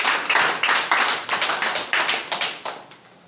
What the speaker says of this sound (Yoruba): Ẹ pàtẹ́wọ́ fún Jésù. Clap Jesus.